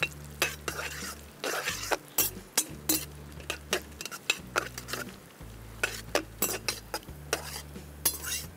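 Cashews roasting in ghee over a slow flame: a soft sizzle under frequent metallic clinks and scrapes of a spoon stirring against the pan, close and irregular.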